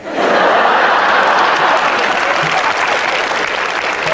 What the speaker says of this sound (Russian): Вот ваши аплодисменты, говорят, видели и согласны.